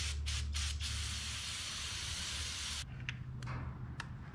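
Brake cleaner sprayed from an aerosol can onto spark plugs from a 1983 Mazda B2000 minitruck: a close, continuous hiss for about three seconds, then several short spurts.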